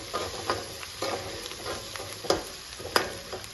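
Fresh curry leaves sizzle in hot oil for a fenugreek leaf dal tempering, a soft steady frying hiss broken by a few stirring scrapes and pops, quiet and close.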